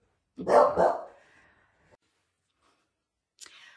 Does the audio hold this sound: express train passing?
no